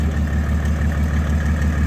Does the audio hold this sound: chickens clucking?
no